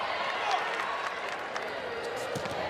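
A crowd cheering and applauding at a volleyball match in Pittsburgh, a dense, sustained arena roar at moderate volume with occasional sharp claps and thumps from the court.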